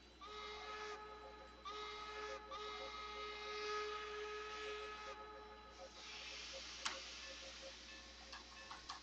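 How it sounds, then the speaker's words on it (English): Steam whistle of a K&L Trainz Strasburg 475 model steam locomotive, two sustained tonal blasts with a steady hiss of steam beneath, fairly faint and close, with a brief tick near the end. "Give 2 blasts on the whistle."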